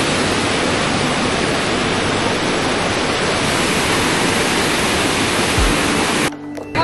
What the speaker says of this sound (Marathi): हा वॉटरफॉल आहे.